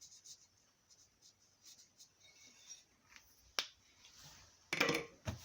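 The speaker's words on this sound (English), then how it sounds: "use a marker pen to shade in the valve seat so I can see if I'm cutting anything away" A marker pen shades in the valve seat of a BSA C15 motorcycle cylinder head, making faint, close, repeated squeaky rubbing strokes, with a few sharper clicks and taps in between.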